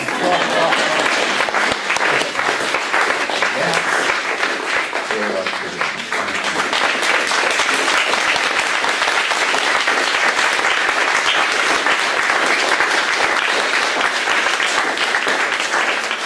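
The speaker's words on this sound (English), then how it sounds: "You're supposed to be clapping for this." Sustained audience applause at a talk on people with disabilities, a dense wash of many hands clapping that holds steady and loud for the full stretch, with a few voices faintly mixed in beneath it.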